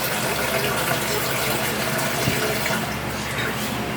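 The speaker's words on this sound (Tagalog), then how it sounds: "Nilagay tayo ng tubig." Water pours into a cooking mixture, making a steady, continuous rushing splash that stays at an even level throughout.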